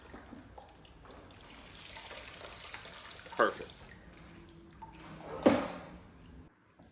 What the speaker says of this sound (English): and then squeeze it out again